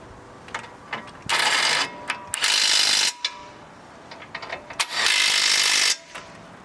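Ratchet tightening brake bolts to torque on a Ford F150 brake job, three long bursts of steady ratcheting clicks separated by short pauses and lighter tool handling, close and loud with no talking.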